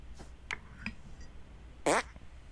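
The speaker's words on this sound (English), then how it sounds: "Make your fart detonate behind me." Video game fart sound from South Park: The Stick of Truth, a short squeaky, wavering blast standing out near the end after a few faint clicks and soft background game noise.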